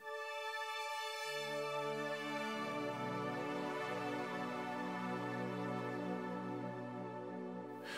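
A retro synth pad with no piano, a bright sustained chord that swells as lower notes enter and shift beneath it, steady and full throughout, with no voices.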